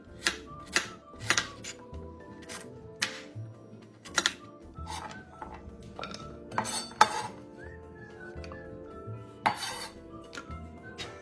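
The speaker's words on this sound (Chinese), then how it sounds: "首先，500克黄色番薯切成薄片，不要切得太厚" A knife cuts 500 g of yellow sweet potato into thin slices, giving a run of sharp, irregular taps against a board beneath steady background music.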